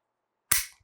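A Beretta 92 pistol with an LTT trigger kit dry-fires once: the hammer falls onto the firing pin with a single sharp, close metallic snap and a short decaying ring, nothing else around it.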